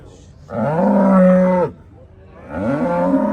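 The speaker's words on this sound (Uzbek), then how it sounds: "Katta sigir ekan" A large cow at a livestock market moos twice, long and loud, a deep drawn-out low followed after a short pause by a second call, close by.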